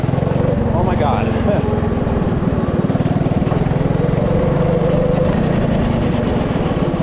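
A small engine on a custom go kart runs close by with a steady rapid putter, holding a constant pitch throughout.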